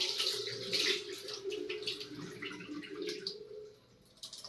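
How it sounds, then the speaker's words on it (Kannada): Rice being washed with chana dal in water, a steady sloshing and splashing close by that runs on continuously and eases off near the end, with no talking. "ಅದಕ್ಕೇನೆ ಕಡಲೆಬೇಳೆಗೆನೆ ಅಕ್ಕಿನ ತೊಳೆದು ಹಾಕಬೇಕು"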